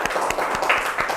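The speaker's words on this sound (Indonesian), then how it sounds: "Beri tepuk tangan ke kelompok Sakura." A classroom of students claps for a presenting group, a short burst of scattered hand claps heard up close in a school room.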